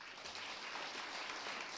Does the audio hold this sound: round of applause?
yes